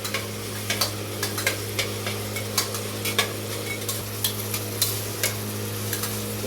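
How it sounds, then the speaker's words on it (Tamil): Onions and tomatoes sautéing in a pan for potato rice, with a steady low sizzle and a regular run of soft utensil taps and scrapes as they are stirred. "இப்போ வந்து வெங்காய தக்காளி வந்து கொஞ்சம் வதங்கிருக்கு"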